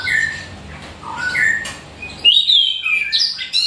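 An orange-headed thrush sings bright, varied whistled phrases up close just after moulting and a hose bath, the notes sliding and chirping with brief pauses between them.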